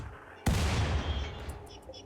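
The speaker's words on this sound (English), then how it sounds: "we can tell Giraffe to man the mortar, because now we want the mechanoids to come to us" A mortar in the video game Rimworld fires a single sharp, loud launch report followed by a rumbling tail that slowly fades over about a second and a half, with no talking.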